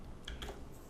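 A computer keyboard gives two or three quick, light key taps in close succession as a number is typed in, faint and close.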